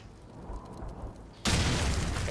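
A frag grenade goes off in Call of Duty 4, a sudden loud broadband blast arriving after low rumbling game noise and then sustained as a dense roar to the end.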